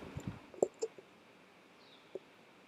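Computer mouse clicks during a journal search on a computer: a few sharp, close clicks bunched in the first second, then a single isolated click later over quiet room tone.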